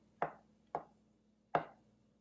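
Three sharp knife chops through mushrooms on a cutting board, close and fairly quiet, with uneven spacing and a near-silent background.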